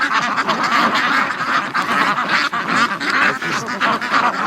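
A flock of Peking ducks, including a very large male, quacks loudly and continuously at close range on a frozen-lake farm in winter, the calls overlapping in a dense, busy chorus.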